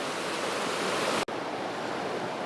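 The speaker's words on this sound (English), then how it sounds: "it's beautiful just listening to the river" A river flows steadily beside a canvas hot tent pitch, its broad rushing wash constant and close throughout, broken only by a momentary dropout midway, with no voices.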